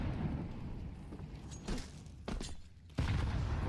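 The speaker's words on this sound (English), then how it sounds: "Grenades coming in." Grenades burst in a Counter-Strike match at the CS Asia Championship, several loud booming blasts spaced over a few seconds, the last one heaviest, amid continuous gunfire-like game noise.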